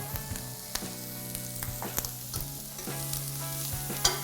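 Shrimp for Hong Kong–style fried noodles stir-fried over high heat in oil, giving a close, continuous sizzle broken by sharp spatula knocks and scrapes against the pan, with no talking.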